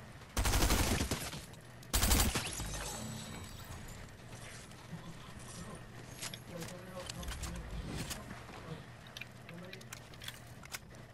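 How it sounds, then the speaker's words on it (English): Gunfire in a shooter video game: two loud bursts of rapid shots near the start, then scattered fainter pops and mechanical clicks under a steady game background, with players talking. "I hear shots, but I don't know where"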